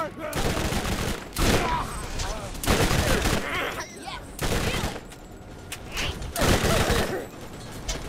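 Rapid bursts of automatic fire from the Bone Shredder, a Tediore submachine gun in the video game Borderlands, come in repeated loud volleys with short gaps between them, and a voice talks over some of the shooting.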